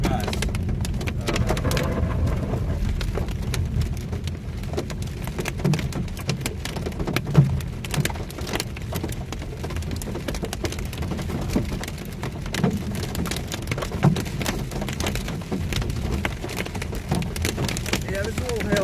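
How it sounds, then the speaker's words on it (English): Rain and light hail falling during a storm in eastern Colorado, a dense steady patter of drops with scattered sharper ticks and occasional low rumble, continuous and close throughout. "there's a little hail in here."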